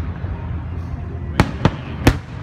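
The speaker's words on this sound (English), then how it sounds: "This is like the longest I've ever seen the fireworks go on for." Fireworks at the 2017 Stanford fireworks show burst in three sharp booms about a quarter second apart, moderately distant, over a continuous rumbling crowd-and-ambient background.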